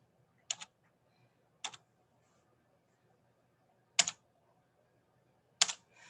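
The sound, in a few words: typing on a computer keyboard into Desmos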